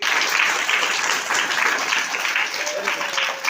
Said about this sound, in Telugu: ఒకసారి మనం అందరం కూడా గట్టిగా చప్పట్లు కొట్టి